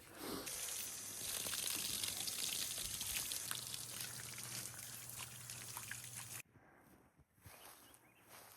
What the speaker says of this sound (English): Found a little spigot on the outside and taking a little bath.